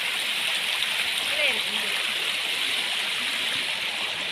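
Water seeps and trickles near the Ghatarani waterfall at the Jatmai temple area as a steady, fairly close splashing hiss. Brief faint voices sound beneath it.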